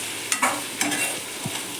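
Fried taro root (arbi) stirred in a pan, a few soft scraping strokes of a spoon against the pan over a faint sizzle, close and fairly quiet.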